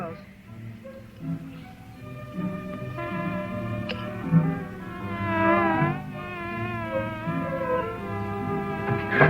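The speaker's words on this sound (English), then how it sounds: "we got us some wild bees" Wild bees buzz in a steady, wavering insect drone that rises and falls in pitch, with someone speaking intermittently over it.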